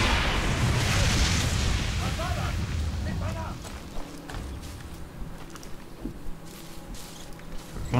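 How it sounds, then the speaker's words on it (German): A loud, rumbling explosion in the video game Far Cry 6 bursts at the start, then fades into scattered smaller pops and debris sounds. "Jetzt knallt das ganze Ding hoch"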